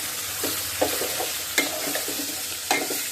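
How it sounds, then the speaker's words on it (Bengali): Eggplant sizzles steadily in hot oil with potatoes already fried in the pan, broken by a few sharp scraping stirs; close and fairly loud, with no talking. "আলু ভাজা হয়ে গেলে বেগুনগুলো ছেড়ে দিচ্ছি, বেগুনগুলো ছেড়ে দিয়ে একটু নেড়ে ছেড়ে দিব"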